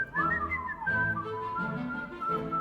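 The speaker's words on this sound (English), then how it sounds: "whistle your favorite song" Someone whistles a short melodic tune up close, wavering between notes for a couple of seconds.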